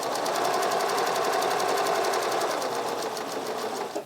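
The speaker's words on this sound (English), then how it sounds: "we're going to do the stitching the narrow short zigzag on the way back" A Pfaff Select sewing machine stitches a narrow short zigzag buttonhole with a fast, steady mechanical whir of rapid needle strokes, close and continuous, easing off briefly at the end.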